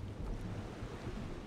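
Water ambience in the dungeon game Legend of Grimrock 2: a steady low rushing wash like surf or wind, even and continuous throughout.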